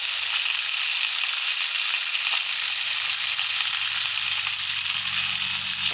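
Scotch fillet steak frying in a hot pan gives a loud, continuous sizzle and hiss that holds steady throughout, with no voices.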